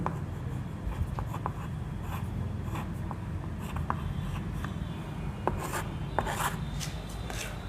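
A hand writes a chemical formula with a pen or chalk, giving short scratchy strokes and taps close up over a steady low room hum, with no speech.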